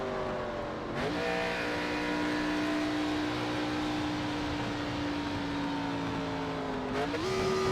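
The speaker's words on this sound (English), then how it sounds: "it sounds like he put it into first gear by accident" A stock car engine in the iRacing sim racing game, Xfinity car at Daytona, drones steadily at high revs, then pitch shifts abruptly around a misshift into first gear, with a sharp change near the end.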